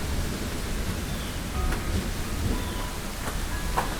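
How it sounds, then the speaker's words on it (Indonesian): Steady night rain as a storytelling sound effect, a continuous even hiss of falling drops with a low rumbling bed, moderate in level and heard alone. "Hujan turun malam itu."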